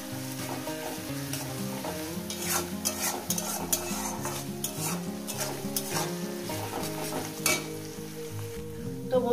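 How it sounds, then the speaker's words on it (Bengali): Onions frying in a pan for a Bengali fish curry, sizzling steadily while a spatula stirs and scrapes in repeated strokes, with music playing loudly underneath throughout. "আমি এখানে পেঁয়াজ ভাজার সঙ্গে সামান্য কয়েকটা দানা"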